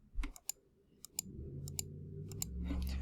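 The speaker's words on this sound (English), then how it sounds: "If you click a mouse, you can actually see it triggering. Like I'm clicking it right now." A Razer computer mouse button clicks sharply in close-up, in paired clicks repeated at roughly half-second intervals over a low background hum.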